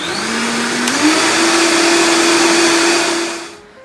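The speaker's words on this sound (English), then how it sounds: "So I have my beans and chicken stock in a blender." A blender purees white beans with chicken stock for ribollita soup, a loud continuous motor whine that rises slightly in pitch as it gets going, then winds down at the end.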